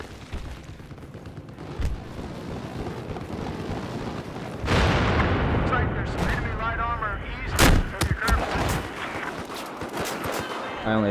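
Semi-automatic gunfire in the multiplayer shooter Battlefield 4 on Xbox One: loud, close sharp shots with heavy booming battle noise around them, growing denser and louder partway through.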